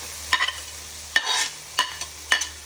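Ginger, garlic, green chillies, shallots and onion frying in a pan, with four distinct stirring scrapes over a soft background sizzle, close and fairly quiet, with no talking.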